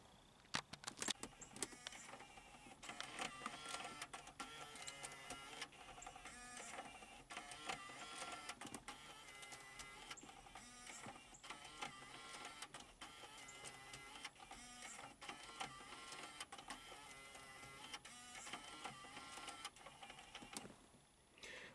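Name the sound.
car 6-disc CD changer mechanism running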